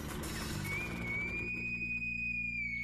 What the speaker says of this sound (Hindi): जब मैं सीटी बजा रहा था